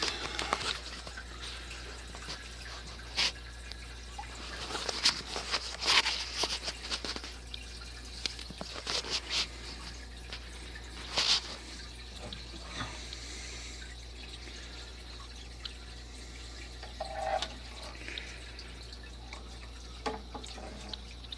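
Water trickles and drips into a basement sump pump pit as it slowly fills, a faint, close, uneven patter with occasional louder splashes over a constant low hum.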